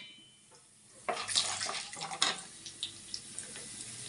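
Mustard seeds, urad dal, chana dal and peanuts drop into hot oil and start frying, a sudden burst of sizzling and crackling that then settles into faint scattered pops, close up.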